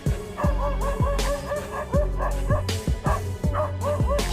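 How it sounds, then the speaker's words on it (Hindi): A dog barks to drive off an attacking leopard, giving a run of loud, sharp barks about every half second, mixed with yips and whimpering cries, close and urgent. "इस कुत्ते की ऑलरेडी फटी पड़ी है, लेकिन फिर भी वो भौंक के तेंदुए को भगा ही देता है"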